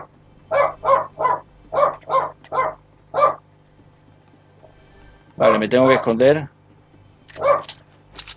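Six quick, clear indoor dog barks sound in a row from a dog in the room. After a pause, someone speaks briefly during Fortnite play on an Xbox One, and then a single further bark follows.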